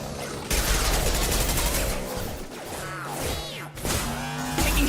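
Dense gunfire in the video game Mass Effect Legendary Edition, with rapid overlapping shots, impacts and whooshing effects filling a loud, chaotic firefight that continues throughout.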